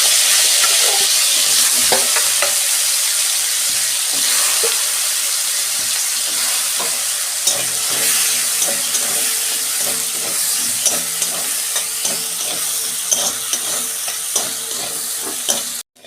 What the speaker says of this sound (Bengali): ওই তেলেই আমি আলুটা ভেজে নিচ্ছি